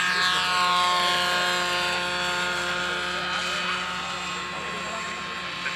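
Buzzing propeller engine of a weighted SAE Aero Design competition model airplane in flight, a steady high whine that fades slightly as it passes overhead.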